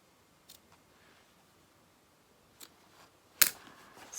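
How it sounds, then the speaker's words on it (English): Scissors trim a long loose thread on a pair of DIY ripped jeans, a single crisp snip near the end standing out after a few faint rustles in a quiet room. "I'm going to cut up this long thread"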